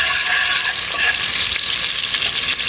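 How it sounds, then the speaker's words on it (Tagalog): Chopped tomatoes sautéing in a pan for ginisang monggo with vegetables, giving a loud, steady, close sizzle and hiss that continues without a break and with no voices. "igisa lang natin yung ating kamatis"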